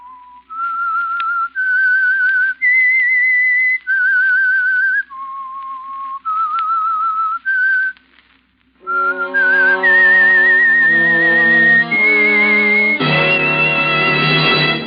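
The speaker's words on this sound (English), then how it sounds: "That whistle is your signal for the Signal Oil Program, The Whistler." A clear whistled melody of steady, sustained notes, the theme of the radio drama The Whistler, first alone, then joined by a brassy orchestral accompaniment that swells into a full, loud finish.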